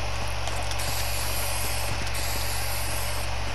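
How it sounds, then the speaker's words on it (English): Spray paint hisses continuously in the Fortnite video game, a steady, dense aerosol rush over a low constant hum, loud and unbroken for a few seconds. "Hey, put the spray paint down."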